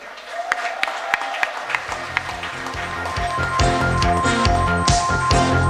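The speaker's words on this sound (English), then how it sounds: "What an applause!" Audience applause at an annual day function, building from scattered claps into a steady, loud wave of clapping as a man is introduced on stage, with music and some voices mixed in.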